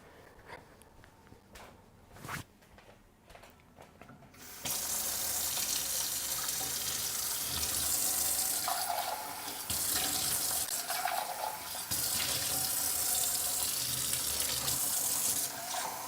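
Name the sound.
water running from a tap to refill a container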